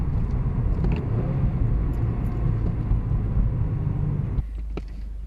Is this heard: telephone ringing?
no